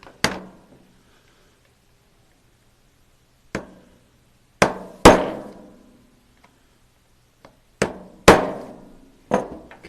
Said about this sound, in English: take my small punch and I'm going to go right in here and I'm going to malform that steel just a little bit on both sides